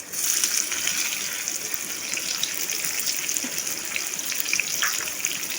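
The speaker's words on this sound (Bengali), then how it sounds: "এবার আমি যে পেঁয়াজটা কুচিয়ে রেখেছিলাম ওই পেঁয়াজ কুচিটা আমি তেলের ভেতরে দিয়ে দেবো।" Chopped onion hits hot oil in a pan and sizzles continuously with a bright, hissing, close frying sound that stays steady from start to finish, with no talking.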